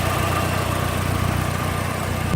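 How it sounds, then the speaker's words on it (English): A manual front-wheel-drive hatchback engine idling close by with a steady low, even rumble and faint pulsing throughout, with no talk over it. "Nice idle sound."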